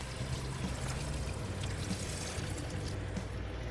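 Rinse water draining from freshly washed mung bean sprouts, a soft continuous pouring trickle heard close up and fairly faint, with no talking.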